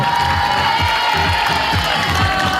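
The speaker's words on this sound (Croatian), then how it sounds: "Pozdrav, veliki aplauz za ekipu Babe Najvar." Crowd cheering and applauding for a volleyball team at a summer volleyball camp, a sustained, loud mix of shouts and clapping with a steady wash of noise.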